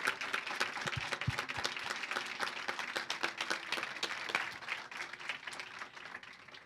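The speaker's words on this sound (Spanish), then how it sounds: "le damos un enorme aplauso ahora que estamos todos acá a la señora Dora" An audience at a talk on women, science and technology claps enthusiastically, a busy wash of many hands that stays full and lively before easing slightly toward the end.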